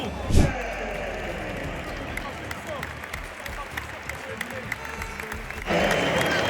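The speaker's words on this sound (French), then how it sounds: "Les gens ils applaudissent quand même, les gens ils applaudissent." A stadium crowd at a Real Madrid match applauds steadily as Mbappé leaves the pitch, a broad wash of clapping and cheering with a sharp knock near the start, swelling slightly at the end.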